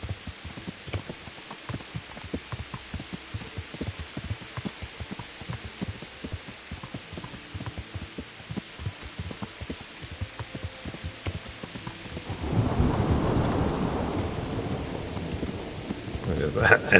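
Rain and rolling thunder in the medieval game Kingdom Come: Deliverance, a steady patter with low rumbles underneath that swells into a louder, heavier wash of rain near the end.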